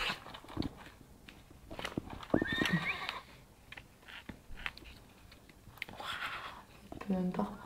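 A horse neighs in a few sharp whinnies amid hoof clip-clops and shuffling, fairly quiet and close, with people murmuring and talking nearby.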